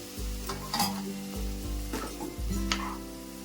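A spoon scrapes and stirs a laddu mixture of carrot khova and rava in a pan with a soft sizzle underneath. The scrapes come in several rhythmic strokes, close and fairly quiet, with no talking.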